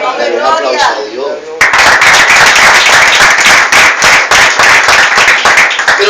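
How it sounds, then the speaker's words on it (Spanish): A church congregation bursts into loud, dense applause at a worship service, sustained clapping that continues steadily after a brief stretch of talk at the start. "Dale un aplauso a Dios."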